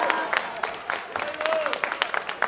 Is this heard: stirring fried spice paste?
no